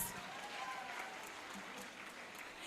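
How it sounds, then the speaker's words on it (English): Applause from a graduation ceremony crowd honouring graduating students at a prep school, a steady, fairly soft wash of many hands clapping that holds evenly throughout. "Give yourselves a round of applause."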